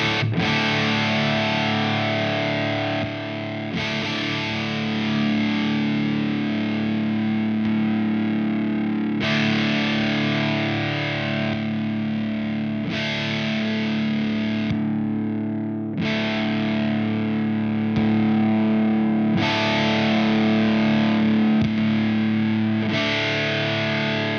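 Electric guitar through a JHS Muffuletta fuzz pedal set to its JHS mode, thick and saturated with sustained chords changing every few seconds, loud and continuous with no talking.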